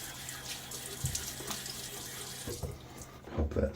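A sink tap runs as water is splashed onto a face before a wet shave, with a steady stream broken by a few close, louder splashes and some low background sound.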